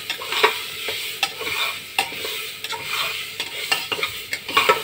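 Onions fry in a pan for pulao with a steady close sizzle, broken by regular scraping strokes of a spatula stirring them around the pan, and no talking.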